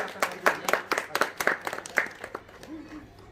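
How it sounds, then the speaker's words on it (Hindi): Scattered clapping at a housewarming gathering for a new row house in Surat, irregular individual claps fairly close and uneven in rhythm, thinning out toward the end with a faint voice. "एक बार जोरदार तालियां बजाइए भाई।"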